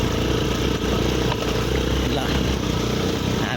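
Motorcycles being ridden on a mountain road near Dungma, with a continuous loud engine drone close by and a person talking over it.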